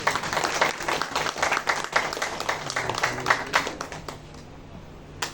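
An audience at a group Bhagavad Gita recitation event claps in a dense, moderately loud burst of applause that thins out and fades near the end.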